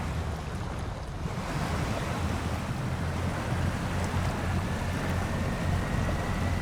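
Big truck ploughing through deep floodwater in SnowRunner's Yukon, a steady broadband wash of churning water and rushing noise that holds evenly loud for the whole stretch, with no talking.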